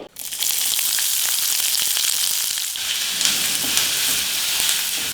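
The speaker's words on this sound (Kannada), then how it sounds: "ಕಟ್ ಮಾಡಿರೋ ಈರುಳ್ಳಿ ಹಾಕ್ತಾ ಇದ್ದೀನಿ" Chopped onion hitting hot oil with mustard seeds, cumin and curry leaves bursts into a loud, close, continuous sizzle with crackling pops and occasional stirring taps, no talk.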